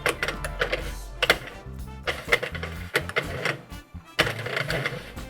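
A knitting machine carriage is cranked slowly across the bed with three strands of mohair yarn, giving a close, busy mechanical clatter of rattles and clunks in an uneven rhythm.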